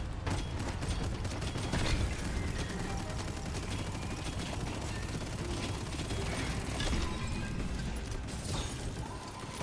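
Turrets firing in the video game Abyssus, dense rapid gunfire bursts overlapping with mechanical clatter and crashes, loud and sustained throughout.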